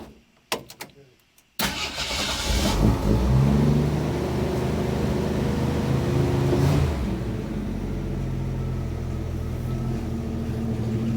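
After a few clicks and cranking, a truck engine with a newly changed fuel filter catches and revs briefly, then settles into a steady close idle with a low throbbing rumble that continues to the end.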